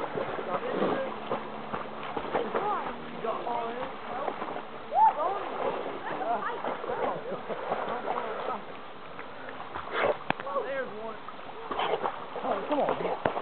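A dog swims during a snowstorm, splashing and paddling through the water with irregular sloshes, while people talk and call out nearby.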